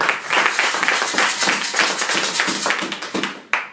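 Church congregation at a French-language worship service claps in a brisk, even rhythm of sharp hand strikes, loud and close, with cheering mixed in and a final louder clap near the end.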